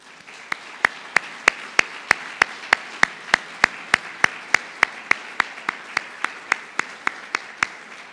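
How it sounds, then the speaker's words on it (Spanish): Applause at an honorary tribute ceremony for a doctor comes across as a single sharp, evenly spaced clap repeating about three times a second, crisp and close over a faint background murmur. "al doctor Alejandro Carrillo Castro, para quien pido nuevamente un aplauso en este momento."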